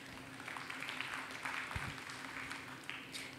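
A demonstration audience claps for an assistant, with moderate, uneven applause over a low background hum.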